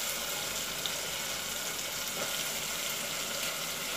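Brinjal and drumstick pieces sizzle steadily while being sautéed in a pan, a constant bright hiss with faint crackles and no voices.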